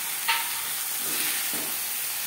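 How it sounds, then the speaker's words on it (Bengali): Boiled jackfruit is stirred into a sizzling spice masala cooked with tomato, giving a steady hiss of frying and a few soft scrapes of stirring. "মশলার সাথে এঁচড় বেশ ভালো করে মিক্স করে দেবো।"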